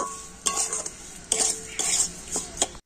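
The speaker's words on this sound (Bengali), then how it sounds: "তো এখন আমি সমস্ত উপকরণ কড়াতে একটু ভালোভাবে নাড়াচাড়া করে নেব।" A spatula stirs semolina and sugar in a metal wok, scraping and clinking against the pan in several sharp strokes over a soft gritty rustle.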